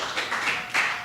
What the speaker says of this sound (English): So ladies and gentlemen, clap your hands for Arora, everybody.